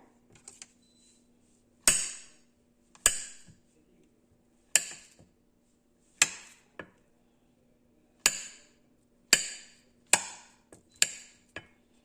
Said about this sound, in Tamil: இதை இன்னும் கொஞ்சம் பொடியாக நம்ம கட் பண்ணுவோம்.